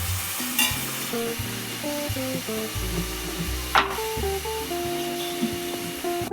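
Ginger sizzles steadily in a hot pan as a spoon stirs it, during preparation of a spiny gourd fry. Continuous close frying hiss with a single sharp scrape midway, and a faint melodic tone in the background.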